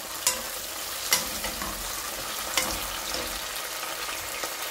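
Chopped tomatoes go into a hot frying pan for kofta curry, where a steady loud sizzle and frying hiss runs throughout with a few sharp stirring knocks and scrapes of a utensil against the pan.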